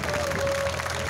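Audience clapping at a live Punjabi jagran devotional gathering in Nurpur Bedi, a steady dense wash of applause from a crowd, loud and continuous with no pauses.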